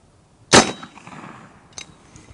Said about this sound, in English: So this is a virgin shot from a fresh tank.